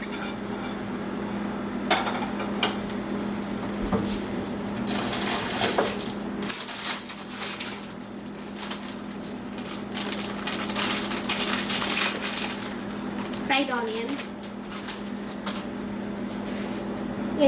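Chicken biryani being mixed with coriander, mint and fried onion in a metal pot, with repeated scraping and clattering of a spoon against the pot and soft shuffling of rice in a quiet kitchen.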